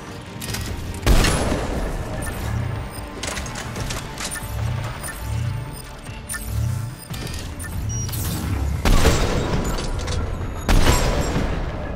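Gunfire and explosions in the video game Mass Effect 3, with repeated sharp shots and several heavy booms that hit loudly and then decay, over a dense, continuous battle background.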